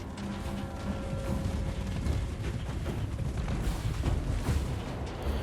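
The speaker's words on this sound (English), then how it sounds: "let's see how the cannons do" Repeated deep booming cannon shots in Total War: Warhammer 3, overlapping with rumbling blasts and clatter, continuous and dense throughout.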